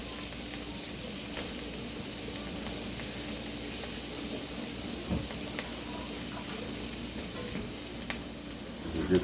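A flour roux base seasoned with oregano and garlic powder sizzles in a pan as it is stirred, a steady soft frying hiss with a few faint scrapes near the end.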